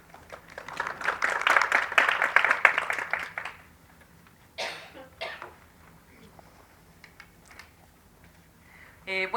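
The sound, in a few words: audience applause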